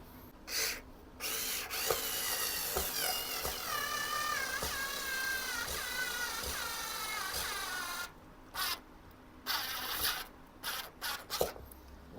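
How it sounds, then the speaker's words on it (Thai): A small cordless drill whirs steadily for several seconds, its whine rising and dipping as it drives a screw, then a few short bursts follow. "เดี๋ยวเรามาลองเจาะสกรูเข้าไปกันนะครับ"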